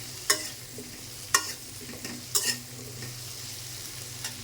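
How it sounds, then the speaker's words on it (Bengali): A few scraping stirs of potatoes with salt in a hot pan, spaced about a second apart, over a steady low sizzle of frying. "একটু ভেজে নেব।"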